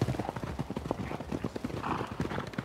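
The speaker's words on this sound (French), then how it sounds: "j'ai 2 chevaux, c'est 2 juments Franche-Montagne" Hooves of working Franche-Montagne mares clip-clop in a quick, close, uneven rhythm, with a brief whinny heard amid the steps.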